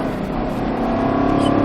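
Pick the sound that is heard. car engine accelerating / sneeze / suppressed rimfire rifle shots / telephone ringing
car engine accelerating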